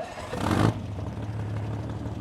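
A classic Mercedes 350 SL engine rumbles nearby, swelling briefly in a short rev before settling into a steady low idle.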